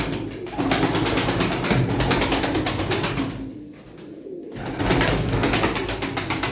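Pigeons coo steadily in a loft of prized flying birds, including a breeding pair, a low rolling murmur that continues for most of the stretch, dips briefly in the middle, then swells back.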